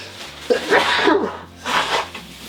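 A single sharp sneeze bursts out, followed shortly by a second breathy sneeze-like exhale, close and fairly loud.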